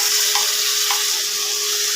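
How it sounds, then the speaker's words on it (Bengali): Fried potatoes tipped into a pan of simmering mutton curry, a steady, even sizzle with a faint tonal hum underneath. "এবার ভাজা আলুগুলো দিয়ে দেবো"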